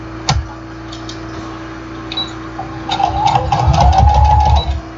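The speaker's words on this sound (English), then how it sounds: "I sew and back stitch." Sewing machine stitching and back stitching a jelly roll mug rug, starting with a sharp click, then a steady rapid mechanical chatter building over the last two seconds, close and fairly loud.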